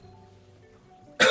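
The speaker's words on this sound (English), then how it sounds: "I've been having this like on and off cough" A single sharp cough bursts out loudly at the end, after a near-silent stretch with a faint background hum.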